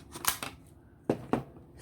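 A few quick, close snips of scissors cutting thread, a cluster of short cuts followed by two sharper clips after a brief pause.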